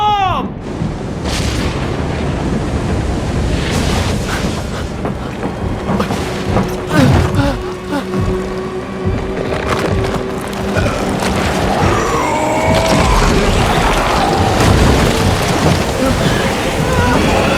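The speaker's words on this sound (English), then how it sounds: "Storm!" Heavy storm in the game Death Stranding 2, with steady loud rain and rolling thunder booms recurring throughout, a dense wash of noise with occasional stronger cracks.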